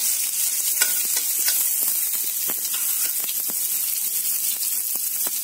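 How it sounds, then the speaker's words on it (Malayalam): Mustard seeds and small shallots crackle and sizzle in hot oil for Kerala-style chattichoru, a bright continuous hiss dotted with sharp pops and occasional stirring scrapes, close up. "കുറച്ച് കടുക്, കുറച്ച് ചെറിയ ഉള്ളി ഒരു രണ്ട് സ്പൂൺ ഇട്ട് കൊടുക്കുകയാണ്."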